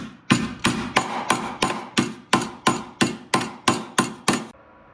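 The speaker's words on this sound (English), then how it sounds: "I only use a claw hammer." A claw hammer strikes metal on a Nissan Pathfinder chassis in a steady series of about twelve sharp, ringing blows, loud and close, then stops.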